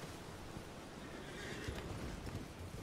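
Horse whinnying and hooves clip-clopping in the video game Elden Ring, heard faintly under a steady broadband wash of in-game ambience.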